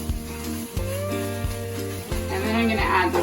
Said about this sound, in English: I'm going to stir everything up.